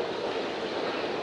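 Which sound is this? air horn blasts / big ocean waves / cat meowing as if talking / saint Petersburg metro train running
saint Petersburg metro train running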